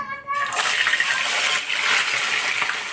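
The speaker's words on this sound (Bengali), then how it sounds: "তেল গরম হয়ে গেছে এবার দিয়ে দেবো মাছগুলো" Fish pieces are slid into hot mustard oil in a kadai and begin frying, a sudden loud hissing sizzle that holds steady and bright with crackling spatter throughout.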